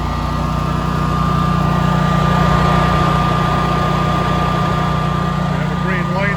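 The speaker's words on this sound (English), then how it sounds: "Basically, we're just letting the engine warm up." A home standby generator engine idles with a constant low rumble and hum, running evenly throughout with no change in pace.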